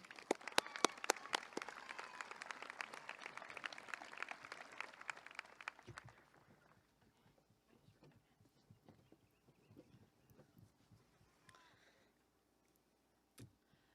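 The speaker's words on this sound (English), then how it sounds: "Let's give her a round of applause" At a high school graduation ceremony, the audience applauds the senior class president, a faint, distant burst of clapping that fades after about six seconds into scattered claps and quiet room sounds.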